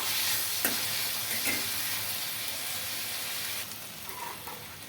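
Tomato pieces and garlic sizzle in a pan with a steady, close frying hiss, broken by a few soft stirring scrapes near the start and middle.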